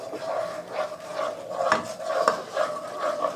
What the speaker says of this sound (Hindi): ये इसमें ऐड कर देंगे और इसको भी हम फ्राई कर लेंगे